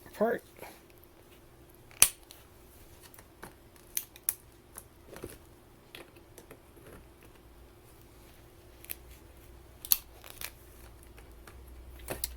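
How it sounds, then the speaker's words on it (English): An A123 LiFePO4 battery pack being cut apart with scattered sharp snips and clicks, separated by quiet pauses and light handling noise. "So let's go ahead and cut this guy apart."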